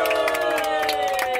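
A group cheers and whoops loudly together at a gathering, voices piling into one steady roar with high shouts rising above it for the whole moment.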